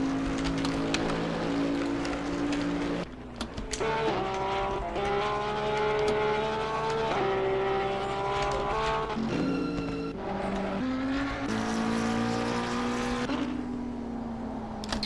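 Race cars in Assetto Corsa Competizione, including a Nissan and an Audi R8, roar past at the Hungary circuit, loud engines whining and shifting pitch through the gears, with no talking.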